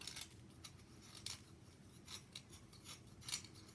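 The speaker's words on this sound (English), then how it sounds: "then just shave the graphite" A graphite stick is shaved with a blade, giving short, faint scraping and rasping strokes close up, repeated irregularly over a quiet background.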